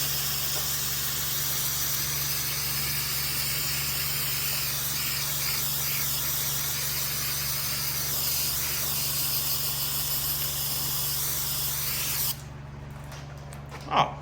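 Steady, loud water spray rinses grease off a car part, likely an L33 engine component, hissing continuously for about twelve seconds before cutting off abruptly, leaving a brief quiet tail with a small knock near the end.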